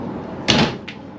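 A cupboard door in a 2023 Forest River Cherokee Wolf Pack toy hauler travel trailer closes with a single solid thud and a faint follow-up knock, close by, over quiet room noise.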